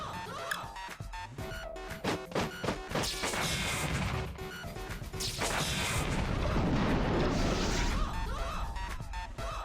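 Relentless tank cannon fire in War of the Human Tanks, a rapid run of loud smashing impacts and crashes that blur into a dense, roaring barrage of explosions, with no talk over it.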